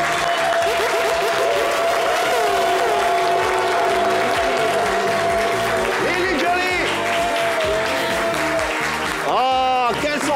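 Studio audience applause welcoming two Mandinka singers on a TV show, sustained clapping over loud music with a singing voice throughout.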